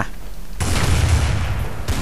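A loud, sudden burst of grenade blasts and gunfire from Counter-Strike: Source on the Dust2 map slams in after a brief lull and roars as a dense, sustained wash of noise, with another hit near the end.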